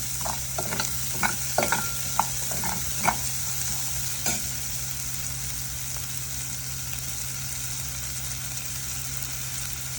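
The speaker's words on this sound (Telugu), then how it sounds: "ఇప్పుడు కొన్ని ఆనియన్స్ వేసుకొని ఇది కూడా ఫ్రై అవ్వాలి" Onions and green chilies fry in oil in a pan with a steady, loud sizzle, while a spoon scrapes and stirs in a few quick knocks near the start.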